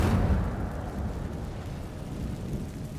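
Incendio fire spell in Hogwarts Legacy, a loud rumbling roar of flame that bursts at the start and settles into a sustained low crackling rush.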